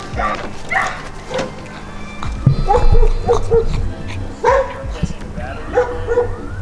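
A small dog yips and barks in short bursts, close by, while people talk and move around nearby, beside a Mazda RX-7 FD.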